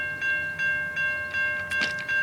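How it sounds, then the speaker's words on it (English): Loaded CSX autorack freight train rolling past in Voorheesville, New York, a steady rhythmic clatter of wheels at regular intervals with a faint tonal ring, heard from trackside at moderate distance. "We have a train coming in Voorheesville."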